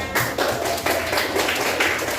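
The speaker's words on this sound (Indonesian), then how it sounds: "Kita beri tepuk tangan" Classroom applause for a student's answer, a short burst of many hands clapping at steady loudness with no pause, filling the whole moment.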